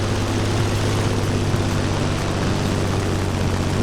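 A propeller plane flies in The Crew Motorfest racing game, its steady, loud engine drone holding a low hum throughout with no talk over it.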